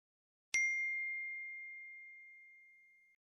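Phone message notification in a visual novel video game: a single clean bell-like ding that rings out clearly, then decays slowly into silence over about two and a half seconds.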